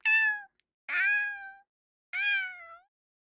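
Three distinct cat meows played as a stream redeem alert, clear and close, each about half a second long with short pauses between them.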